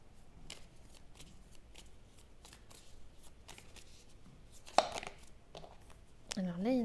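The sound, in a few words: shuffling tarot cards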